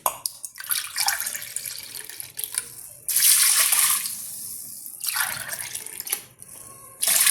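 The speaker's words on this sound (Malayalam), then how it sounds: "അതിൻ്റെ കൂടെ 2 ഗ്ലാസ് വെള്ളം കൂടെ ഒഴിക്കുകയാണ്." Water poured in bursts into a pot while milk rice porridge is being made, a close splashing pour that starts and stops several times with brief gaps between pours.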